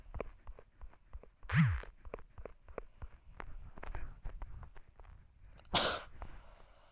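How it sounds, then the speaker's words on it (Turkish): A man coughs twice, with a harsh burst early on and another near the end, close to the microphone over quiet scattered clicks and rustles. "Özür dilerim arkadaşlar. Öksürdüğüm için."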